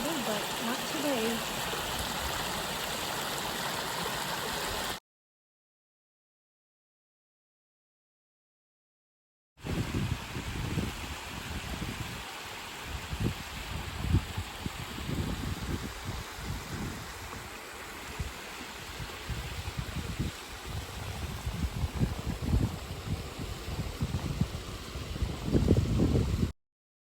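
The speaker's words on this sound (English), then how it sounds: "Cache Creek is more like a river right now." Cache Creek running high and fast like a river along the Bison Trail, a steady broadband rush of flowing water close by with wind buffeting, briefly cut out before the roar resumes.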